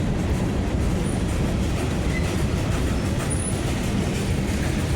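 A BNSF manifest freight train led by locomotives 6049, 7038 and 6884 rolls westbound through La Crosse, Wisconsin, picking up speed: a continuous loud rumble of wheels and cars with a faint squeal, heard without talk.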